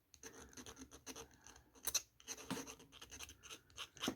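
A file rasps across a broken statement necklace piece in short, repeated scratching strokes, close and fairly quiet, with no talking.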